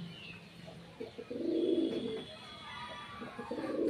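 Pigeons in a small home loft on a rainy day give soft, low, throaty coos in two short bouts, close by and alone over faint background hiss.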